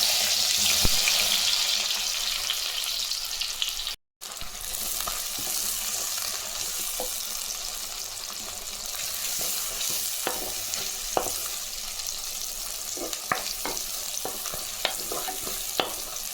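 Finely chopped shallots hit hot oil with popped mustard seeds for a taro root curry, a loud, steady, broadband sizzle with a brief cut in the middle and faint utensil taps.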